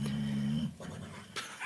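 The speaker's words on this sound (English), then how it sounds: "My dog's snoring. He's having a dream of his own." A dog snoring while dreaming, close by: a short, low, droning snore lasting under a second, followed by soft breathy rasps.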